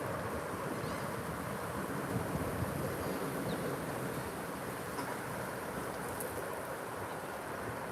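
Outdoor breeze near a marina, a steady broadband rush of wind buffeting the microphone, constant and fairly loud across the whole stretch with no voices.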